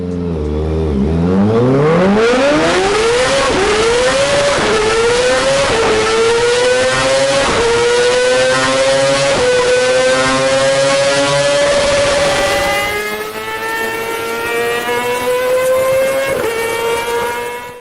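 A twin-cylinder Kawasaki Ninja sport motorcycle engine revs loudly, its pitch climbing in repeated surges from a low rumble, holding high, then dropping slightly and steadying.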